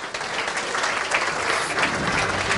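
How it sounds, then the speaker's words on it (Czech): At the ALD Automotive Fleet Awards 2012 gala evening, the audience applauds the Volkswagen Caddy's win, a moderate, even burst of clapping from a roomful of people. "Zatleskejte mu."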